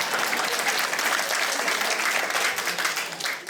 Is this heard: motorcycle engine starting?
no